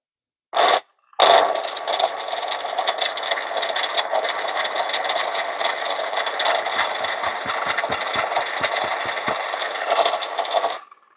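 A DF64P coffee grinder whirs steadily after two short starts, with a single bean spinning and clattering rhythmically inside without being ground, close and loud until the motor stops.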